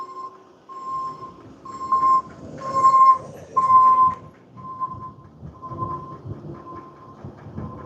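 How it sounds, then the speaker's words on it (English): A freight train rolling through a small town, heard from an e-bike ride: a sustained horn tone sounds in several pulses over rumbling wheels and clacking rail cars, fairly loud and close. "On Tuesdays and Thursdays, the train comes through."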